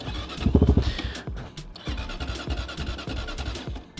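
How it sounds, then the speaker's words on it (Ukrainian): A Kovi Max 300 motorcycle engine cold-starting after a valve adjustment: it cranks with a burst of loud revs, dips briefly, then settles into a rough, uneven idle close to the microphone. "Запускаємо його холодний старт після регулювання клапанів"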